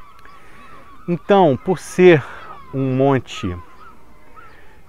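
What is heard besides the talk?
seagulls calling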